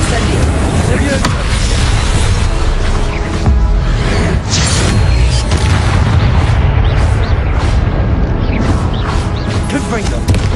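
Spell blasts from the Confringo and Incendio charms in the video game Hogwarts Legacy, a dense run of loud booming bursts layered over continuous rumble, with game voices calling out spells throughout.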